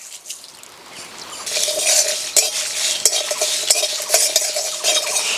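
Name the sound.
dry-roasting whole spices, stirring in pan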